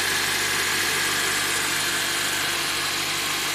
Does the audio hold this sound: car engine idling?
yes